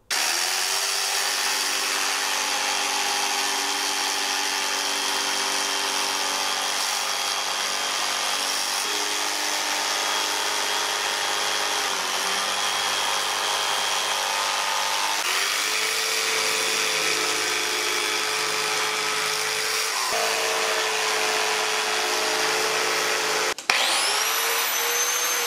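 A power grinder shaping a blue foam seat insert for a Triumph Bonneville, running as a steady continuous whine that shifts pitch several times as the tool bears on the foam, loud and close, with a brief knock near the end.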